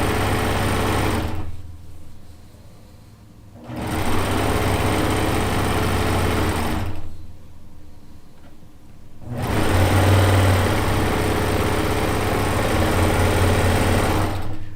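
Sewing machine stitching quilt sections together in loud, close, continuous motor-driven runs, pausing twice for a couple of seconds before starting up again, with no talking.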